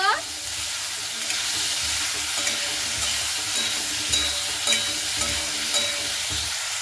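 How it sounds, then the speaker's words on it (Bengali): Potatoes sizzle and fry in a pan with salt and turmeric, being stirred now and then, a steady close frying hiss with soft scraping from the stirring. "আলুটাকে হালকা লাল লাল করে ভেজে নেব"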